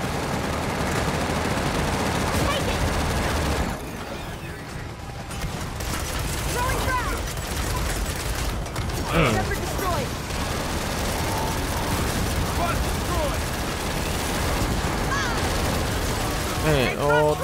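Gunfire from the Gears of War 4 video game, dense rattling bursts mixed with game effects and voices talking throughout, loud and continuous.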